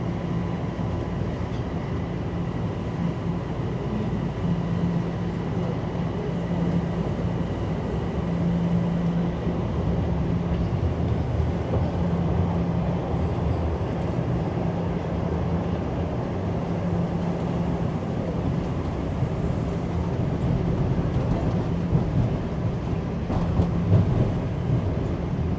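A Toronto subway Line 1 train pulls into St. George Station with a steady, loud rumble of wheels and motors that holds throughout, marked by faint tonal whines.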